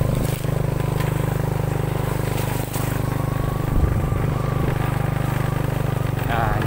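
Motorcycle engines at dawn during Ramadan near a forest: a loud, continuous droning engine hum close by, holding steady throughout, with voices talking over it.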